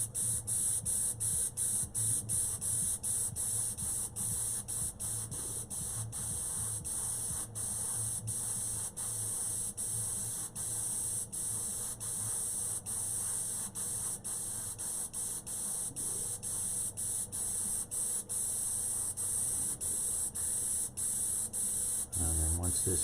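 Spray can applying yellow paint to a Roman soldier figure, a loud continuous close hiss running nearly unbroken throughout with brief flutters, ending with a short low thump.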